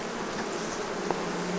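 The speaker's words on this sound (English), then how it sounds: "While these bees are going down, let's pop this colony." Honeybees buzz densely around an open hive, a close, continuous hum of many wings with no voices.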